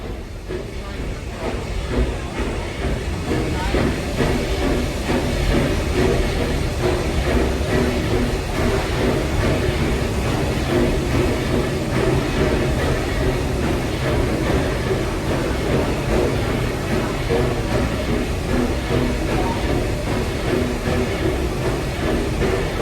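Walt Disney World Magic Kingdom railroad train rolling along a straightaway near Tomorrowland, a steady loud rumble with rail clatter and hiss sustained throughout, with voices faintly mixed in.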